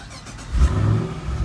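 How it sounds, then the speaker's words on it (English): A Chevy SS sedan engine with a cold air intake turns over and catches, rising into a low, steady rumble close by. "Start it up with the cold air intake."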